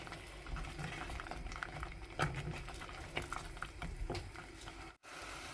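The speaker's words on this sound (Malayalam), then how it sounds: "തെറിക്കുന്ന തിള മാറിയിട്ട് സൈഡിൽ തിള വരാൻ തുടങ്ങിയിട്ടുണ്ട്" Sweet potato halwa bubbles and spatters in a pan as it thickens, a steady soft popping and pattering with faint sizzling, close and continuous, with no talk.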